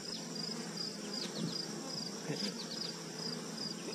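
Honey bees swarming around an open hive, a faint continuous insect buzz with scattered zipping fly-bys, thin and distant in a quiet outdoor setting.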